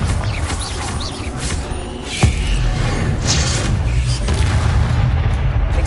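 A Bombarda spell blast in Hogwarts Legacy, a loud booming explosion with a sharp crack in the middle, set amid continuous clattering combat noise.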